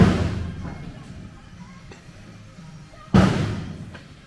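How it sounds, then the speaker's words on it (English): Two heavy metallic bangs on a 1969 Ford Mustang's body panels ring out in a workshop, one at the start and a louder one later, each decaying into reverberant hum. "You can hear him over there banging on the Mustang."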